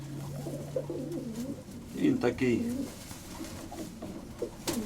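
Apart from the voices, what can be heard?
pigeon cooing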